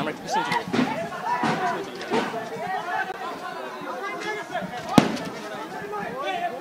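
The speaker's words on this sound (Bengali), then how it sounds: "ককটেল বিস্ফোরণের ঘটনা।" During a clash between students and locals at Chittagong University, a single sharp blast from a crude cocktail bomb rings out over continuous crowd chatter and raised voices.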